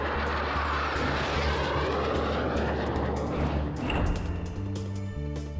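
Loud, steady roar of a malfunctioning aircraft's failing engines and turbines in mid-flight, a dense continuous drone with a brief surge near the end.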